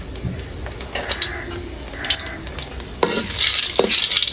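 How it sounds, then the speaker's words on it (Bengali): Cumin, dried chillies, bay leaves and cinnamon sizzle in hot white oil, with soft crackles and spoon taps, then the sizzle grows sharply louder and more continuous partway through. "তেল গরম হয়ে গেছে, দিয়েছি জিরে, শুকনো লঙ্কা, আর 2টো তেজপাতা, 2টো দারচিনি।"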